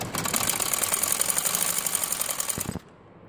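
A sewing machine runs a second line of stitching on a salwar poncha (trouser hem) in one steady, close, fast-rattling burst before stopping abruptly, leaving a short near-silent tail.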